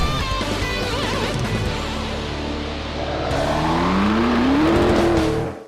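A McLaren sports car pulling away, its engine loud and close, revving up with a rising pitch as it accelerates before cutting off abruptly at the end.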